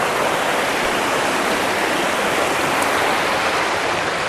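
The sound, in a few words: water flowing down into a cave system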